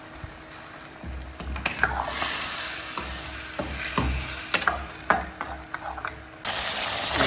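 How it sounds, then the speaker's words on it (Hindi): Karahi gosht, meat cooking in a karahi on high flame, sizzles and frizzles steadily while a utensil stirs and scrapes through it in irregular bursts, close up and without speech. "तेज़ आंच पर पकाएं कि मज़ीद पानी खुश्क हो जाए।"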